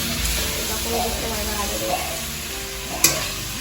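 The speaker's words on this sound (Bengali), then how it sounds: "তো আদা যখন ভাজা হয়ে যাবে, তোমরা দেখবে আদাটা কড়াতে সামনে ধরবে" Ginger frying in an oiled wok (kadai) during Bengali curry preparation, a steady close sizzle with stirring scrapes and a sharp clack near the end, no speech heard.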